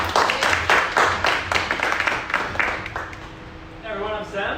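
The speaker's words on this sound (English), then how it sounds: "Ladies and gentlemen, round of applause." An audience claps and applauds at a global citizenship talk, a dense patter of clapping that fades out near the end as a voice begins speaking.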